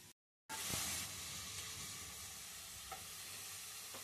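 Onions softening in a pan for a ridge gourd-style curry, a steady close sizzle with occasional stirring clinks, broken briefly by a short silence near the start.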